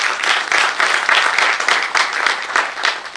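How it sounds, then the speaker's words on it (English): Round of applause from the audience at an award function, a dense burst of many hands clapping close by with a steady pulsing texture throughout. "We need a big round of applause for him, please."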